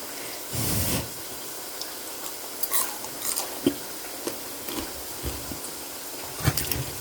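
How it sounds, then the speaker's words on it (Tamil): Crispy fried masala vada bitten and chewed up close: a few sharp, crackling crunches at irregular intervals over a quiet background, with no talking. "இப்படி சாப்பிட்டு காட்டுறேன் இப்படி கரகரன்னு சத்தம் கேட்குது பாருங்களேன்"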